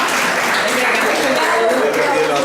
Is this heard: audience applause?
yes